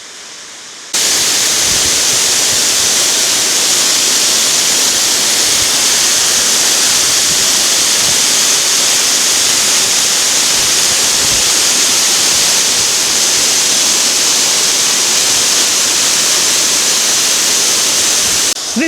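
Steady roaring rush of water pouring over the Derwent Reservoir spillway, loud and continuous like a waterfall, with no voices.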